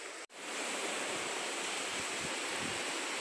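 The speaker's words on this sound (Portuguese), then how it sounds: "Eu vou botar água aqui." Water poured into a container while filling up about 20 liters at a bait spot, a steady loud rushing splash that begins after a brief gap and continues evenly.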